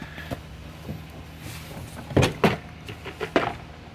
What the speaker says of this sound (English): How about if we open the door?